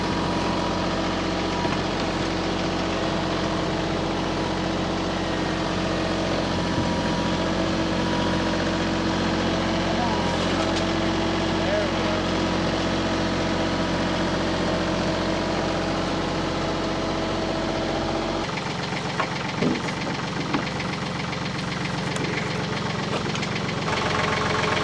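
A tractor engine idles steadily and loud nearby, a continuous mechanical rumble that shifts in tone partway through, with no talking.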